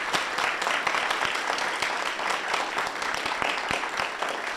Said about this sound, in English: how about a round of applause for all our participants today?